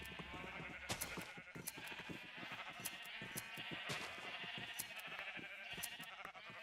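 Sheep in the Minecraft video game bleating repeatedly, a run of overlapping bleats at a steady level, with no talking.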